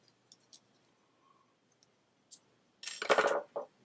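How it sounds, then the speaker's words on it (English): Glock trigger connector lifted out with a small screwdriver: a few faint isolated clicks, then a brief close burst of metallic scraping and clicking parts near the end. "The connector just lifts right up."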